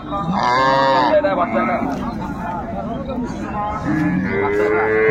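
Cattle low at the Raniganj livestock market in Dinajpur, where dairy cows and calves are traded. Drawn-out moos rise near the start and again near the end over busy crowd noise and someone talking.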